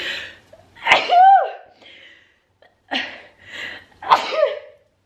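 Two sharp sneezes, each preceded by a quick intake of breath, close and loud in an otherwise quiet room.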